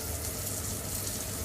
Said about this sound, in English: Put a little bit of water in there.